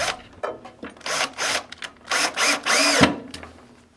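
A power drill drives screws into a wooden pullout pantry shelf in several short, loud whirring bursts with brief pauses between them, close up, ending in a thunk.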